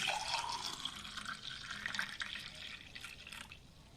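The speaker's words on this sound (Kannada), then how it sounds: "ಚೆನ್ನಾಗಿ ಲೋಟಕ್ಕೆ ಹಾಕೋಣ." Akkachchu, a cool drink made from red-rice washing water, is poured into a glass, a faint, steady trickle of liquid that slowly tapers off.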